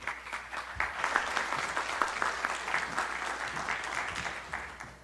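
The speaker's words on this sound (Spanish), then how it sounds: "Aplauso, por favor." An auditorium audience applauds, dense clapping that rises quickly and holds steady for several seconds before starting to thin, with no voices over it.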